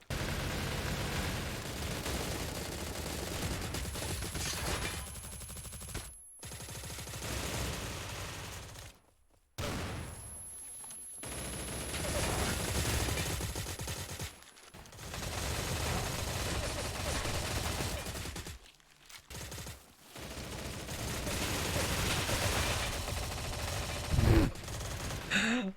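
Bursts of SIG SG 550 rifle fire in a video game, rapid automatic volleys broken by short silent gaps, loud and close, with brief breaths and faint talk mixed in.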